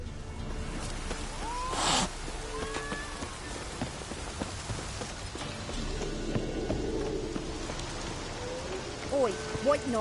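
Steady video game rain patters and hisses across a surface throughout, with faint voices and occasional clopping footsteps mixed underneath.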